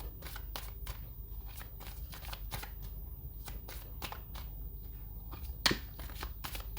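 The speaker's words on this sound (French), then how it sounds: "je me dis de couper, je vais couper, ok, je coupe" A deck of tarot cards is handled and cut, producing a series of soft, close card flicks and riffles at an uneven pace, with one sharper snap near the end in a quiet room.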